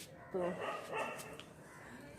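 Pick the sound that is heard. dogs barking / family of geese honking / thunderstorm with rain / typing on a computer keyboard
dogs barking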